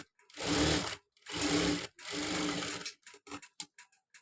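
A sewing machine stitches piping fabric in three steady bursts of fast, even whirring, each about a second long, followed by a few quick clicks and taps as the fabric is adjusted.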